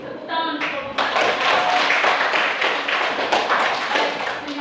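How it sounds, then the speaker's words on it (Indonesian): A classroom of students claps for group 1 after their presentation, a close, fairly loud burst of hand claps that starts abruptly after a brief voice and keeps going steadily. "Tepuk tangan untuk kelompok 1."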